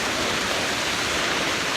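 Skaftafell waterfall in Iceland roars as a steady, dense wash of falling water, loud and unbroken throughout the brief moment.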